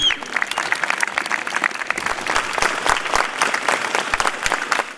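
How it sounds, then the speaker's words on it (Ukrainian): A large crowd gives a standing ovation in memory of a late performer: thick, continuous applause with sharp individual claps poking out, filling the whole stretch without letting up. "Їх згадують оплесками стоячи"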